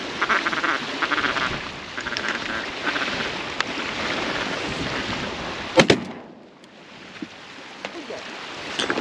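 Ducks quack over open water on a public-land hunt, with repeated calls through a steady wash of background noise and a sharp burst partway through.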